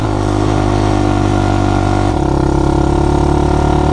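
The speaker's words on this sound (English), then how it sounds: "So it's idling a little too high." An ATV engine idles loud and close with a steady, slightly high-pitched putter, then its note drops and roughens partway through as the idle shifts.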